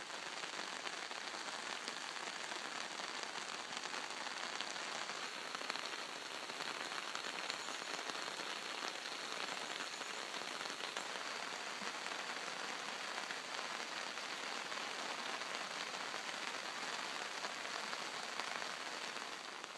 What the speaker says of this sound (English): Getting a gentle rain from the remnants of the hurricane from Mexico.